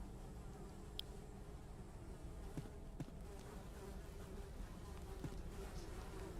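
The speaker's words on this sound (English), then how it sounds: "Despite the buzzing flies" Steady buzzing of flies around a latrine in a fantasy role-playing game, a continuous droning hum with faint ticks, sitting fairly low in the mix with no voices.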